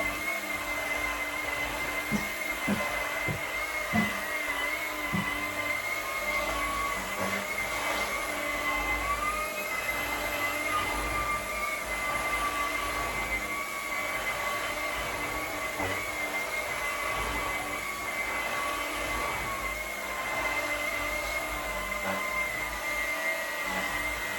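A Shark Carpet Xpert Stain Striker carpet cleaner runs over carpet with a steady, loud motor whir and suction hum, passing back and forth several times with no talking.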